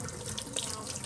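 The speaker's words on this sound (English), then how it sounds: "I just put them under some hot water" Hot tap water runs steadily over frozen bananas still in their skins, giving a close, continuous splashing rush with small spattering variations.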